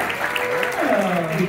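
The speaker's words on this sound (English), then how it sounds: "By a round of applause" A brief burst of audience clapping at a crossword puzzle tournament final rises under a speaking voice that carries on over it.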